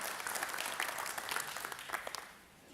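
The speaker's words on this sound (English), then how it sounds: "Everybody give Brooklyn a clap for her." Seminar audience applauds a young volunteer: a brisk burst of many hands clapping that tapers off at the end, moderately distant.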